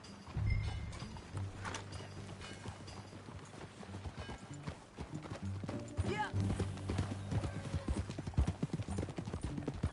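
Horses clip-clopping along in Red Dead Redemption 2, a steady rhythmic patter of hooves at a ride with tack jingling and low rumble, a brief voice heard over it.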